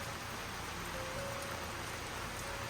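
Steady autumn rain pours down at a snail farm in the Kyiv region, a dense, even hiss of drops on surfaces filling the whole stretch with no voices.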